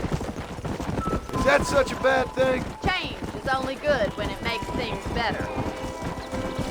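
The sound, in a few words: horse hooves trotting in Red Dead Redemption video game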